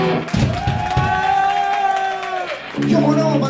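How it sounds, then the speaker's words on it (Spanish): Fans at a thrash metal show cheering and whooping, a sustained loud shout held for a couple of seconds over crowd noise and scattered claps, with the crowd rising again at the end. "¡Un aplauso, Rubén!"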